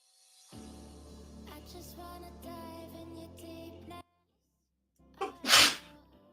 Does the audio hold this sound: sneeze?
yes